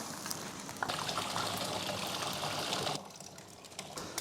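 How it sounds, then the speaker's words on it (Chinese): Potato slices for fried chips are tipped into a pot of boiling water, giving a close, steady rush of bubbling and splashing with a brief splash near the start, then a quieter simmer toward the end. No voices. "水开了就把土豆片倒进去啊"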